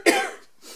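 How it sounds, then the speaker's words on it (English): A single sharp cough up close, followed by a brief quieter rustle of breath. "excuse me, I'm going to have to cough."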